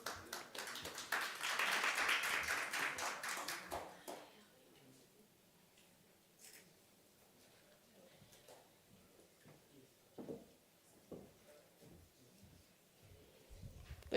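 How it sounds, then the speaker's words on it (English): Scattered applause greets Dr. Wanjiru Mboro, head of research at Qhala, at a smartphone manufacturing summit, a few seconds of loud clapping that quickly dies into a quiet room with occasional taps and thuds. "Please, round of applause for Dr. Wanjiru."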